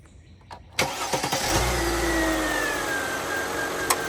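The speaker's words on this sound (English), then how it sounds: "So let's get this car started up and see what our gauges are actually doing." A Mercedes E320's engine cranks briefly and catches, then settles into a steady, close idle with a faint whine running through it.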